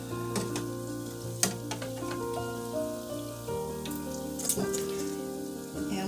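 Vegan zucchini fritters frying in hot oil, a close, continuous sizzle with crackling pops and spatters, some sharper bursts standing out over the steady bubbling, with no talking.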